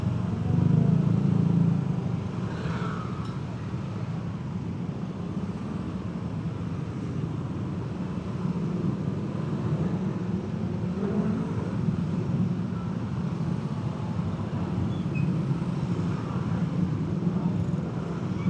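Traffic jam on a Jakarta road heard from a motorcycle, a continuous low engine and road drone with muffled passing vehicles, steady throughout and slightly louder at the very start.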